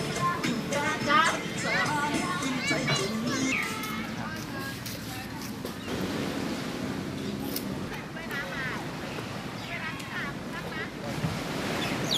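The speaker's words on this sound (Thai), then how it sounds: "ตอนนี้ผมยืนอยู่บนชายหาดแหลมสิงห์แล้วครับผม" Waves roll in on Laem Sing beach on Thailand's east coast, a steady surf wash with wind buffeting the microphone. Children's voices are heard faintly in the background.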